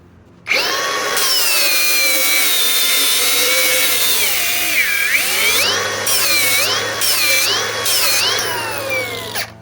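Milwaukee M18 Fuel 3672-20 One-Key angle grinder on an 8 amp Forge battery, spinning up with a sharp start and a loud, sustained high whine that dips and wavers as load is applied, heard alone without talk.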